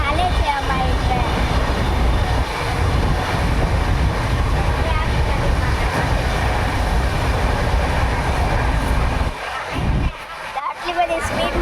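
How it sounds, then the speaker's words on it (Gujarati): A fast-moving train heading to Nathdwara, heard from inside the carriage as a loud, steady roar of wheels and wind buffeting, dipping briefly near the end, with people talking underneath. "આટલી બધી સ્પીડમાં હાલે છે અમારી ટ્રેન"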